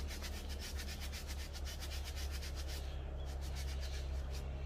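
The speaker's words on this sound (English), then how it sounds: "give it a good scrub too" A brush scrubs the back of a dirty mesh shoe in quick, rhythmic back-and-forth strokes. The strokes are close, with a soft rasping texture over a low steady hum, and slow slightly toward the end.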